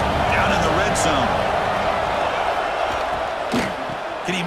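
A football stadium crowd cheers and roars loudly and steadily during a defensive stand in the red zone, with whoops rising above the din and a commentator's voice running underneath.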